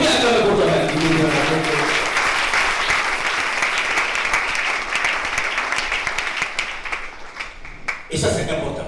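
A church congregation applauding, loud and sustained clapping from a large crowd that continues for several seconds before tapering off, with voices mixed in.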